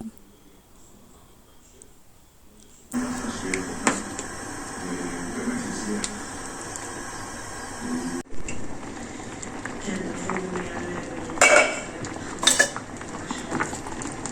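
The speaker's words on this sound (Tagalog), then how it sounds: "haluin lang natin siya para mas masarap" Spoon scraping and clinking against a pot while bilo bilo dessert is stirred, intermittent metallic taps over a steady background, with brief talk near the start and a few sharper clanks near the end.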